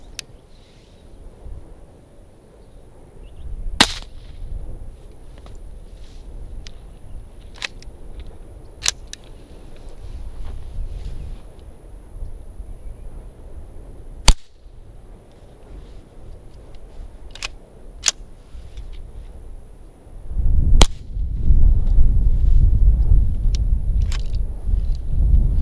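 An AR-7 rifle fires CCI Quiet-22 rounds: three sharp, snappy cracks spaced several seconds apart, with a few fainter clicks between them over a low background rumble.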